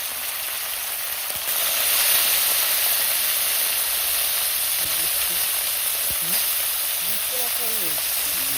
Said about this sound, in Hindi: भजा चलती जराणी माछ देशी जराणी माछ